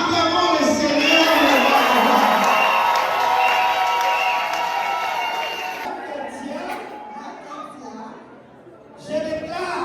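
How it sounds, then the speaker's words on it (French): A wedding crowd cheers and shouts together, loud and dense for about six seconds before fading to scattered voices, with a brief burst near the end. "Acclamons le Seigneur."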